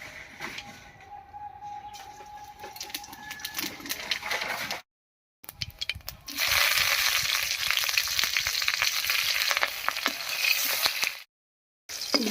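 Whole cumin seeds and green chilli crackle and sizzle in hot oil in a wok, a bright steady frying hiss that swells loud and dense after a brief gap, with softer spitting before it.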